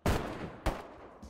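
Two loud, close gunshots in DayZ, each a sharp blast with a ringing decay, spaced about half a second apart, followed by a fainter third report.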